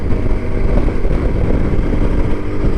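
A 2023 Voge 300 Rally motorcycle cruising at highway speed above 70 km/h, its engine droning steadily with heavy wind rumble, loud and continuous throughout.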